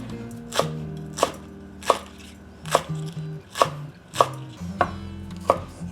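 A knife chops chives on a cutting board, about nine sharp, evenly spaced strikes at close range with no talk in between.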